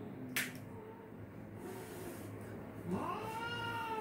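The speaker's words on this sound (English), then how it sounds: "That's my mom's cat." An indoor house cat meows twice, a short call early on and a longer rising-falling meow near the end, close and fairly clear over a low room hum.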